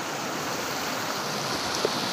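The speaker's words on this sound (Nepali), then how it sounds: "हामीले खोलामा पुगिसक्यौँ है" A river stream flows in an even, continuous rush of water, close and fairly loud, holding steady throughout without any voices over it.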